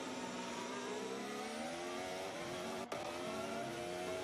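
Formula 1 car under acceleration, heard onboard at Spa, a loud, steady high-pitched engine scream rising in pitch with a brief dip near the end.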